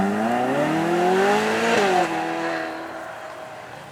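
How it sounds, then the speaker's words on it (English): A McLaren 720S Spider with a 4-litre twin-turbo V8 revs hard at a supercar weekend at Beaulieu, its pitch climbing through a sustained rising howl before dropping off as the car moves away. "720S Spider, this one's actually got a slightly larger 4-litre V8 twin turbo"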